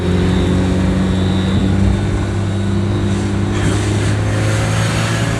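A propeller aeroplane passing low over a national road in Aceh Utara, Indonesia, a loud constant engine drone with a steady hum that fills the whole stretch.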